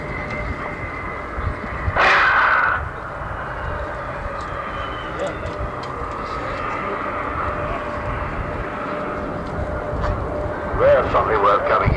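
Very heavy aircraft of about 600 tons, over a million pounds, passing at the 1990 Farnborough Air Show: a steady broad roar that holds throughout, with a brief louder burst near the start, under faint crowd murmur.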